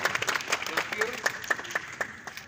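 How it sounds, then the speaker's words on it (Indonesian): Applause for JPS at an Indonesian parliamentary commission meeting in Papua, a short burst of clapping from a modest group while a voice speaks over it. "Tepuk tangan dulu buat JPS"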